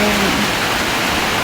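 Steady rain falls during a tropical storm in a residential area, a continuous broadband wash with a soft hum underneath.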